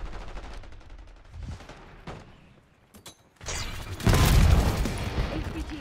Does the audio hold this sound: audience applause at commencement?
no